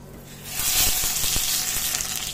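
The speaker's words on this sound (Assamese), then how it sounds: "এয়া মোৰ সৰিয়হকেইটা ফুটাত ইয়াতে দিলোঁ আমখিনি" Raw mango pieces hit hot mustard oil with spluttering black mustard seeds, setting off a sudden loud sizzle that holds steady, with a few sharp clinks of a utensil against the pan.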